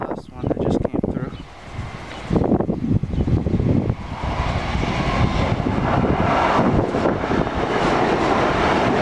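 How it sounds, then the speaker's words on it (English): LIRR commuter train at Little Neck station, rumbling closer and building into a steady, loud roar of passing cars, with brief talk near the start. "Train stopping here."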